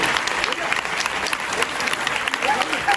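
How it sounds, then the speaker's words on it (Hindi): Dense applause from a crowd at a devotional Vyasa Puja gathering in Karachi, a loud continuous patter of many hands clapping with voices mixed in beneath. "जोरदार तालियां हो जाए भाई को"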